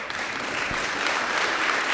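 Church audience clapping, a dense, steady round of applause from many hands filling the space at even volume.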